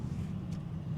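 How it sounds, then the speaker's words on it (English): Interior of a 2024 Volvo C40 electric crossover under hard acceleration: a steady low road and motor rumble fills the cabin without a break, with a brief faint hiss partway through. "Here we are on board the Volvo C40, and we're gonna always punch it."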